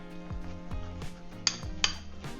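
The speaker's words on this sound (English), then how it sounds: "now we're just going to mix this together" A broccoli spread with za'atar and lime zest is mixed in a bowl, with soft scraping and two sharp utensil clinks against the bowl standing out near the end.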